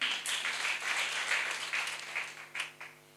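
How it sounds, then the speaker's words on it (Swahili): Congregation at a Sunday church service clapping in praise of God, a steady wash of applause heard fairly distant and quiet, swelling and fading over a few seconds with a few sharper claps near the end. "Tumpe Mungu makofi kwa hilo."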